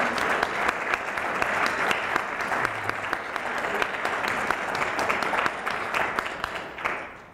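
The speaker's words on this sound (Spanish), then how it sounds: "Un aplauso a la señora Delia Fiallo" Sustained audience applause at a world telenovela summit, a dense steady wash of many hands clapping that runs the whole stretch and tails off slightly at the end.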